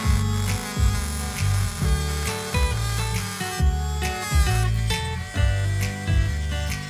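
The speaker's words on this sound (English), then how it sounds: "We have to sand one side of motor shaft flat." Small 775 DC motor shaft being ground flat on one side, a steady high-pitched whining grind with repeated rhythmic surges as the metal is pressed against the abrasive, loud and close with no talk.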